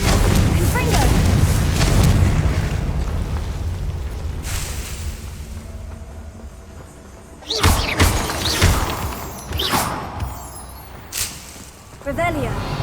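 Blasting spells in a wizard-themed video game go off as a string of sharp booming explosions with crackling debris, following a quieter stretch where a voice speaks.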